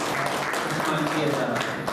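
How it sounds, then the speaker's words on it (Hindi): Applause rises at an award ceremony honouring a school management committee, with steady clapping from the audience and murmured voices mixed underneath. "जोरदार ताली"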